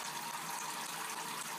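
Water flowing steadily from a drilled sparge arm onto the grain bed of a dedicated HERMS home brewing system, a continuous close gushing and splashing with no speech.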